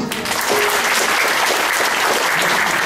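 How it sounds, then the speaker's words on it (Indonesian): An audience applauds at a motivational talk, with dense, steady clapping from a large crowd that holds at an even loudness throughout. "tepuk tangan dulu"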